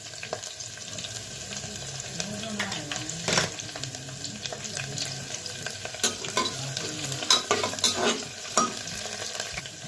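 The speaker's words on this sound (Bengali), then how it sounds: "পেঁয়াজ কুচি দিয়ে দিয়েছি, তো ভালোভাবে নেড়ে চেড়ে নেব।" Onions sizzle in hot oil while a spoon scrapes and stirs the pan in uneven strokes, close up.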